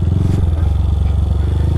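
A low-displacement Honda Fan motorcycle fitted with an aftermarket exhaust idles close up, giving a loud, steady, rapid low-pitched burble with even pulses throughout.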